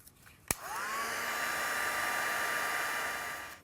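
A craft heat tool blowing hot air to melt embossing powder on a card, with a click as it switches on and then a steady whirring hiss with a faint rising whine. The sound is fairly quiet and continuous, with no talk.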